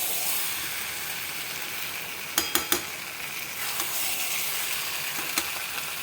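Fried taro and potato tipped into sizzling masala in a pan, a steady soft hiss of frying punctuated by a quick cluster of clacks from the ingredients and utensil.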